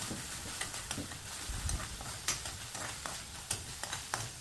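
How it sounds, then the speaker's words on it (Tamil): Chopped onions with ginger garlic paste sauté in a pan, a soft continuous sizzle with intermittent stirring scrapes, fairly quiet and close, with no talking. "இதை நல்லா வதக்கி விட்டுக்கலாம்."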